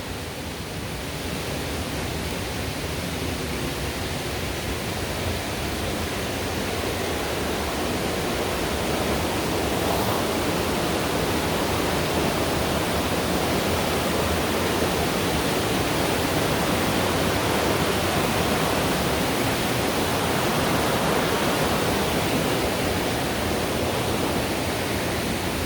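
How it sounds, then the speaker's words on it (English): A river rushing steadily over rocks, a favourite spot for swimming dips, making a dense, constant broadband wash that stays loud and even throughout, with no voices. "So I want to show you guys the river here."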